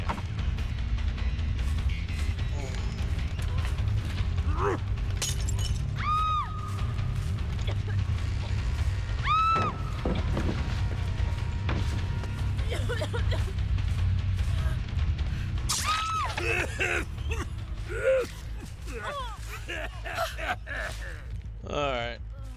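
Hooking a survivor in the Dead by Daylight video game: steady in-game ambience carries gasps, groans and creaking hook mechanisms, with bright ringing tones chiming a few times throughout.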